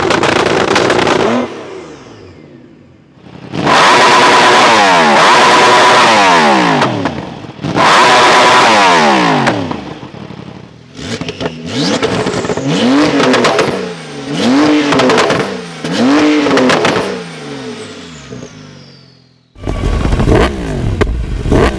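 Loud, close revving from high-powered street machines, an 1100 hp Nissan R35 GT-R, a 900 hp Porsche 911 Turbo S and a 210 hp Yamaha R1 motorcycle, in repeated throttle blips rising and falling with rapid climbs, separated by short gaps.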